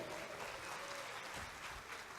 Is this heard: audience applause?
yes